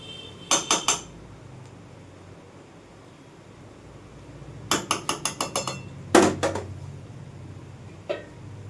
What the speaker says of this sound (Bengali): আমি ঢেকে দিলাম